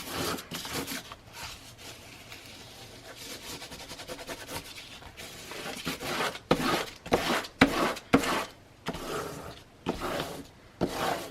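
Burnishing by hand, close rubbing and scraping strokes that start soft and continuous, then turn into louder, separate back-and-forth swipes in an uneven rhythm, with no one talking.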